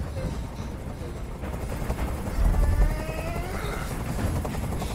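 Helicopter hovering overhead in Detroit Become Human, a steady rotor drone with a low thumping swell midway, moderately loud under a tense game soundscape.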